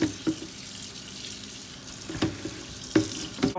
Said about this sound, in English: I'm gonna start out washing my broccoli